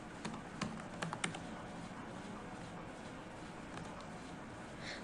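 Keys being typed on a computer keyboard, entering a school name into an online job application form. Quiet, irregular taps and clicks come in small bursts over a low steady background hiss, with no voices.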